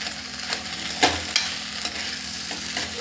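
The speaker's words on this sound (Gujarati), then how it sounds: "ખાંડ એડ કરીશું, ગરમ મસાલો અને થોડો કાળા મરી પાવડર બધું જ મિક્સ કરી લેવાનું છે।" Sabudana khichdi with sugar, garam masala and black pepper is stirred in a hot pan, a spoon scraping and clinking a few times over a soft, steady sizzle.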